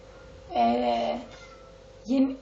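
A pet cat meows indoors, two close, loud complaining cries, the first long and wavering, the second shorter and rising, while someone speaks nearby.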